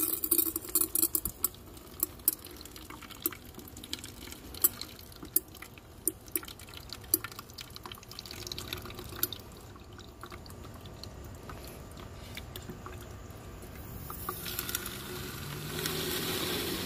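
Water runs and drips into a Hydro Mousse liquid lawn sprayer container as it fills to the top, a steady close splashing trickle with scattered drips that thickens into a fuller rushing fill near the end.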